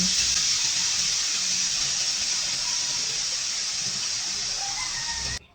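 A pressure cooker hisses steam steadily and loudly, a constant high rushing sound that cuts off abruptly at the end.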